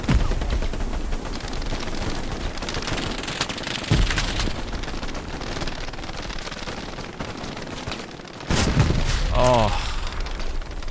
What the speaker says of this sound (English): Is it like an MG42?